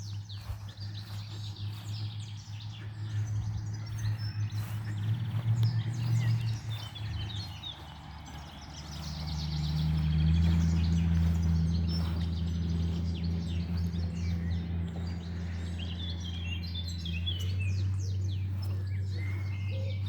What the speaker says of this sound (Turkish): çok güzel kuş sesi sesleri eşliğinde yürüyüş yapıyorum